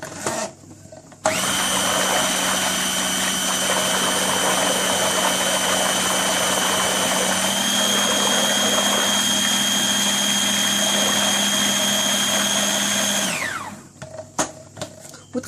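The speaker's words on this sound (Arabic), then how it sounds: "فانا هقفل وهكمل خلط" A food processor motor whirs loudly and steadily while blending homemade healthy chocolate Nutella, starting abruptly after a brief pause and running at a constant pitch for about twelve seconds before winding down, followed by a few light clatters.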